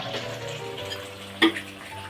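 Chicken pieces going into green masala frying in oil, a continuous soft sizzle with a brief clatter partway through, moderately quiet and close, no voices.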